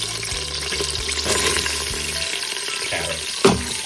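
Carrots and celery sizzle and fry in a pan while being stirred, giving a steady crackle with scraping stir sounds. A sharper clatter comes near the end.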